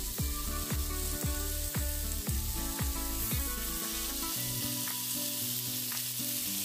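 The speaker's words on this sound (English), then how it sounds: "I just love a sizzling sound. Can you hear that?" Chicken satay skewers sizzle loudly on a hot grill pan, a steady frying hiss punctuated by repeated sharp clinks and taps as the skewers are set down and moved.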